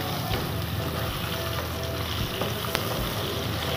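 Potatoes and eggplant fry together over a medium flame in a pan for a Bengali sardine curry, a steady close sizzle with faint stirring scrapes and no talking.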